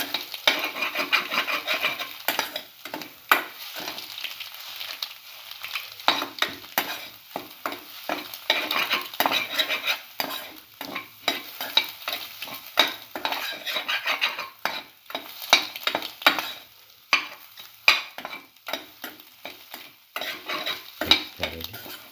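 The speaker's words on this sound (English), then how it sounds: "Carefully saute and mix." Egg sautéing in a pan for black pepper stir fry, with steady sizzling and frequent clinks and scrapes of a utensil stirring against the pan throughout, no talking.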